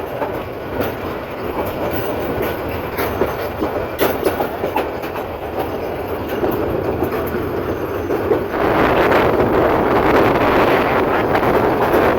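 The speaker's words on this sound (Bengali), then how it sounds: "পুরো ট্রেনটি একটি বাঁক নিয়ে চলছে" A passenger train rolls steadily around a curve on a Bangladeshi rail line, its wheels clattering in a continuous rumble with wind buffeting the microphone, growing louder toward the end.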